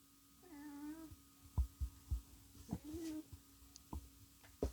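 A house cat wanders around a quiet room, giving two drawn-out meows, each followed by soft thumps and bumps of it moving about nearby.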